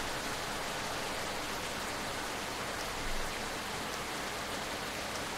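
Steady rain pours down in the zombie survival game March of the Living, a constant broadband hiss with no pauses and a brief swell near the end.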